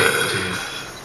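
A woman lets out one loud, close burp lasting about a second, raspy and broad, with no talking over it.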